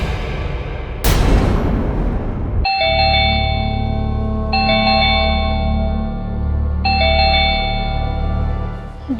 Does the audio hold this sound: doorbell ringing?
yes